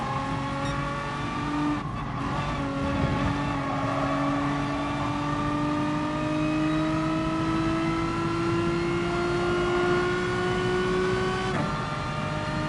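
Race car engine in Gran Turismo Sport holds a steady high drone with rising pitch throughout a daily race, briefly easing off around two seconds as the throttle lifts, with faint tire noise and no talk.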